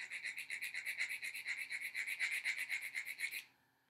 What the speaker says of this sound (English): And then on the smaller toothed side, my scraper sounds like this.